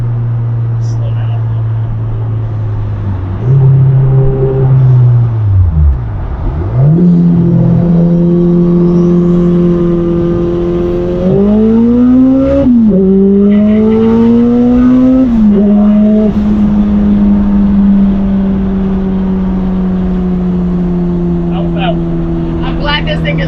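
Loud race car at speed heard from inside the car, its engine droning steadily and rising and falling in pitch through gear changes and acceleration, close and dominant throughout.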